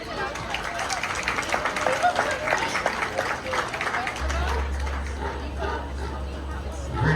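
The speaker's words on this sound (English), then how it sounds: "Give all them a round of applause." An audience applauds at a county fair Tamworth pig market class show, loose clapping with scattered voices and chatter, with a low rumble entering midway.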